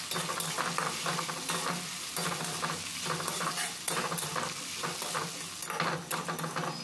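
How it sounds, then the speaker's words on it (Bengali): Ginger-garlic paste frying with onion in a pan for a lentil and bottle gourd dish, giving a steady sizzle with repeated stirring and scraping throughout, close and fairly loud, no talking. "আদা রসুনটা হালকা ভেজে নিতে হবে পেঁয়াজের সঙ্গে"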